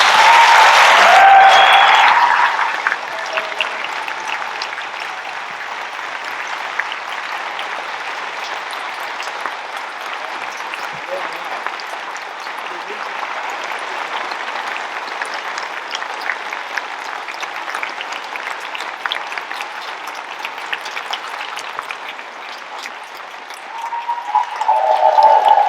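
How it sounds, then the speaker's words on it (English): Audience at a town hall panel at Freedom Fest 2021 applauding steadily for over twenty seconds, a dense, even wash of clapping that stays loud throughout, with a brief louder swell at the start and end. "So maybe just give a round of applause to everyone up here."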